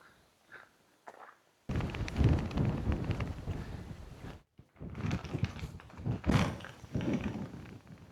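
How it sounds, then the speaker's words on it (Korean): Strong wind gusts buffet the microphone on the Shakotan coast of Hokkaido, roaring in loud rushes with a brief lull in the middle, after a quiet start. "바람 많이 불죠?"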